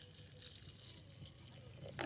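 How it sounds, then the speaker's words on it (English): Water pours into a pot of chili beans until it just covers them, with a faint, steady trickle and light splashing, quiet and close, with a slightly louder splash at the end. "And then I'm going to pour in some water just until it covers them."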